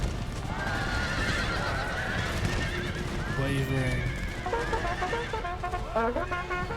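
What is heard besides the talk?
cavalry horses neighing in Empire Total War video game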